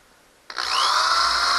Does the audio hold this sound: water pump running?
no